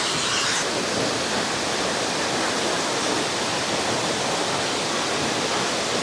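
Waterfall deep in Kanthalloor forest on a trekking trail, a loud, unbroken broadband roar of falling water close by, steady from start to end with no voices.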